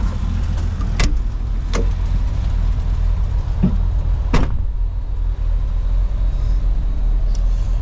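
A Jeep engine with a faulty exhaust rumbles steadily up close, a loud continuous low drone broken by a few sharp bangs or knocks.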